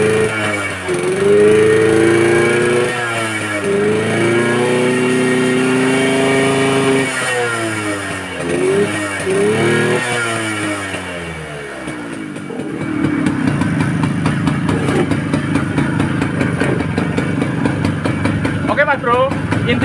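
A motorcycle engine starts and runs close by, with repeated throttle blips rising and falling before it settles into a rough, steady idle. Someone talks over it early on.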